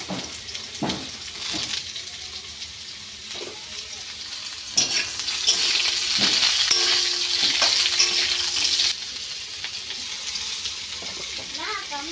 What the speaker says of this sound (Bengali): কালো জিরা ফোড়ন হচ্ছে